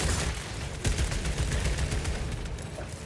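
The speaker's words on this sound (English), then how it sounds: "those stun grenades are getting annoying" Stun grenades exploding in Warhammer 40k Space Marine 2, a dense continuous barrage of loud blasts and crackling gunfire with no clear gaps, a sharper burst near the start of the second second.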